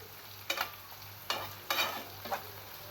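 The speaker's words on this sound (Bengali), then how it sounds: "এই তেলটার মধ্যেই চিচিঙ্গাটা রান্না হয়ে যাবে।" Snake gourd stirred in hot oil in a pan, with a few scraping bursts of sizzle over a low steady background hum.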